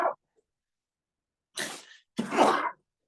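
A person sneezes twice in quick succession, moderately loud and close, following a brief earlier burst of sound during a religious study lecture.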